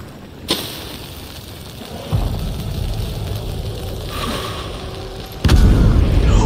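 A loud explosion booms in the video game Hunt: Showdown, a heavy blast followed by rumbling, with another sharp burst near the end and no talk over it.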